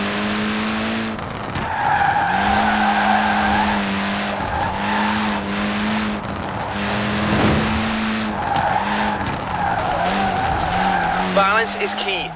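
A car power-slides in Forza Horizon 4, its tires squealing in long sustained bursts over a droning engine, while a voice talks throughout.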